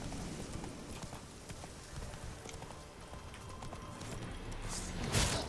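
Roach, a horse in the video game The Witcher 3, clip-clops along at a steady trotting rhythm, the hoofbeats close and moderately loud, with a sharper burst of sound near the end.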